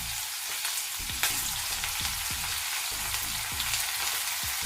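Ginger garlic paste frying in a pan with a dense, close hiss of oil and repeated utensil knocks and scrapes as it is stirred, no talking.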